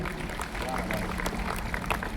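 Audience in a railway auditorium at a Hindi poetry gathering clapping in steady, dense applause, with a voice talking over it.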